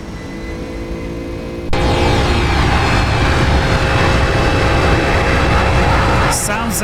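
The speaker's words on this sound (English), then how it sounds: "Sounds incredible. Look at the effects by the engines there." FlightFactor Boeing 757 jet engines spool up for takeoff in the X-Plane 12 flight simulator, a sudden loud rise into a steady, powerful roar and whine that holds without letting up, with a brief speaking voice over it near the end.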